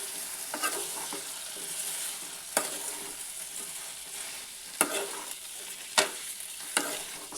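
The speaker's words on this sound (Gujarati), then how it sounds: "અને બટેટાને સારી રીતે મિક્સ કરી દઈએ." Potatoes being stirred into cooked tomatoes in a pan for Gujarati dry potato bhaji, a soft continuous sizzle broken by a few sharp scrapes and taps of the spoon against the pan.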